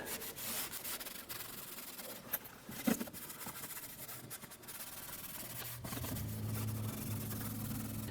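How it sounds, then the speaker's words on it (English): Cloth wiping and rubbing across the front bumper of a 2017-2020 Hyundai Elantra, a soft steady scrubbing with brief bumps, close up and alone. "you want to go ahead and start by cleaning the front bumper."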